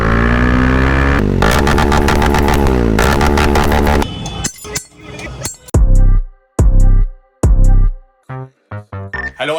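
A Bajaj Dominar motorcycle fitted with an Akrapovic exhaust drones steadily, then fires a series of sharp, loud revs separated by brief pauses, heard close up.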